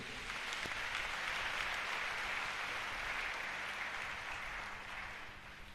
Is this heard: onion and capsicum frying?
no